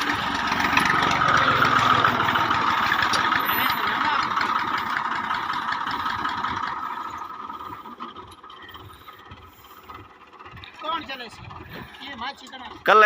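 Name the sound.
Massey Ferguson tractor engine running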